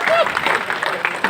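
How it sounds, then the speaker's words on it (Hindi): Audience applause at a Hindi humorous poetry recital in Ayodhya, a steady mass of clapping filling the whole short stretch with no pauses. "तालियां बढ़िया बजानी चाहिए"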